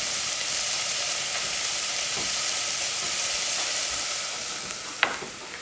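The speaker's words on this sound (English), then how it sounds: "I check my onions, and I'm allowing some caramelization to build up on them, but not too much." Onions frying and caramelizing in a pot for Greek lentil soup give a steady broad sizzle, with faint stirring scrapes and a brief sharp clink near the end, close and unbroken by talk.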